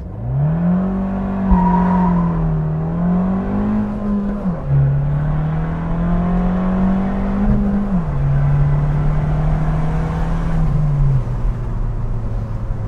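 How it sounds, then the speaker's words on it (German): A 2019 Abarth 595C Pista with 160 PS accelerates hard from a standstill, its engine note climbing loudly through several gears, each shift marked by a sudden drop in pitch before rising again, heard from inside the cabin. "Ja, und jetzt sind wir im Stand. Ich bin einfach mal ruhig und wir beschleunigen durch."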